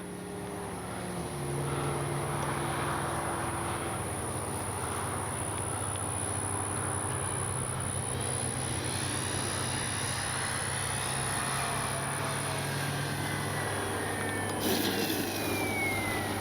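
An Avios Extra NG 300 radio-controlled model airplane with upgraded landing gear flies outdoors, its propeller and engine drone holding steady and fairly loud with shifting pitch as it passes overhead in a breezy setting.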